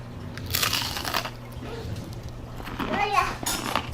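Crunchy beer-battered white bass is bitten, giving a few crisp crunches mixed with someone talking outdoors.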